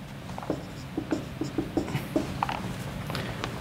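Chalk or marker scratching across a board during a statistics lecture, a series of short, regular strokes and taps close by, with quieter rubbing between them and no talk.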